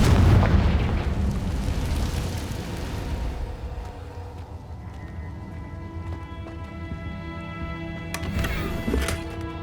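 Confringo fire spell exploding in Hogwarts Legacy on Switch: a loud, close blast at the start that fades into a lingering rumble, with steady tonal game music underneath.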